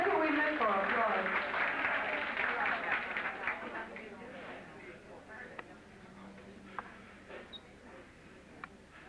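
Applause at a fashion show, a dense wash of hand-clapping from an audience that starts loud and gradually thins and fades, leaving a few scattered claps near the end.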